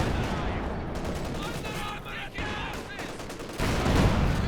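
A Panzer IV tank fires in the Company of Heroes 2 video game amid a dense battle soundscape of rapid gunfire and explosions, loud and continuous, with one heavier burst near the end.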